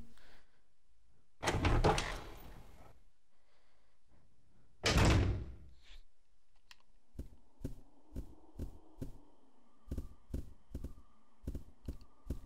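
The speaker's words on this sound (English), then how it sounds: "Here's the other clock door." Clock door opening in the video game Resident Evil 0 HD: two loud broadband creaking-thud bursts, then a series of sharp rhythmic mechanical clicks over a steady low tone, close and without talk.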